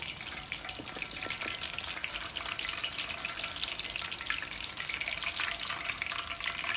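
A breaded tonkatsu pork cutlet fries in hot oil in a wok, giving off a dense, continuous crackling sizzle at steady volume, with no talking.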